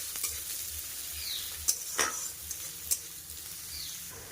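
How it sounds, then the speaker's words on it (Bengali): Chopped onion, garlic and green chilli fry in hot oil with a steady close sizzle, while a utensil stirs and scrapes the pan in a few sharp knocks. "খুব ভালোভাবে এগুলোকে প্রথমে ভাজা করে নেব।"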